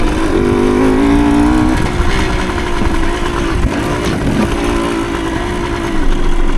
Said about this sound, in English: it's a fun little trail bike for putting around this stuff